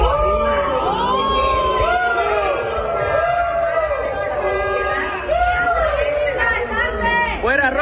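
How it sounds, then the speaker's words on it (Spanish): A large crowd at a public event jeers and shouts in disapproval, loud overlapping voices rising and falling in waves with scattered whoops and yells. "mencionaron el nombre de Rubén Rocha Moya, comenzaron los abucheos."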